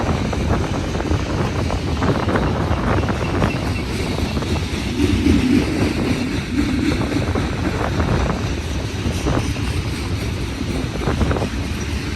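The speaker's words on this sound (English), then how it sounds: "Alright, nice long train." A long Union Pacific manifest freight train rumbles past close by on the Palmdale Cutoff, a steady heavy roar with rhythmic clanks, mixed with gusty wind buffeting the microphone throughout.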